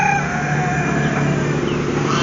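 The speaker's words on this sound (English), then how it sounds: "Chicken." A chicken crows outdoors at a property where a Dodge Ram is used to pull down a 60-foot oak tree. The drawn-out call rises over a steady hum, with no voices.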